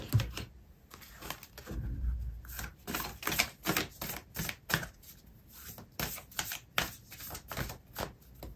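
Oracle cards shuffled by hand for a tarot reading, a steady run of soft, dry riffling clicks and flutters repeating close up for several seconds, with no talking.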